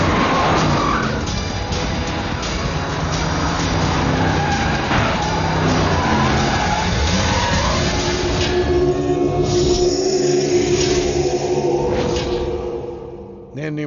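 A car revs and pulls away with skidding, screeching tyres, loud and continuous before fading out at the end, with music and effects layered over it.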